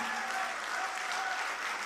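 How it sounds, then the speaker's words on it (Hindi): Steady, dense audience applause at a mushaira poetry recital in Mysore, continuous clapping filling the hall at even loudness without a break. "मुझे एक बार जोरदार ताली बजा करके हुक्म दीजिए।"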